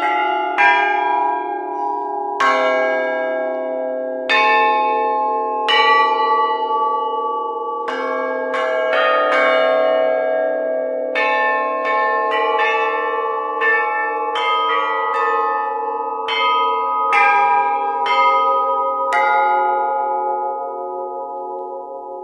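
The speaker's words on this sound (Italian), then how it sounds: "I rintocchi dei bronzi dalla fonderia hanno suggellato un anniversario inconsueto" Bronze church bells cast at a bell foundry toll in a long, resonant sequence of overlapping strikes, each ringing out and decaying over the next, clear and fairly loud with no voices present.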